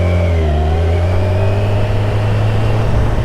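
A 2020 Kawasaki Ninja 1000SX motorcycle engine pulls off smoothly in first gear, a loud, steady low drone rising in pitch as it accelerates, close and continuous with no talking.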